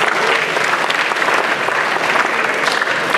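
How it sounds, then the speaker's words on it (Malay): Dense, steady applause from a forum audience in Malaysia fills the whole stretch, loud and continuous with no voice standing out above the clapping. "Berikan tepuk tangan."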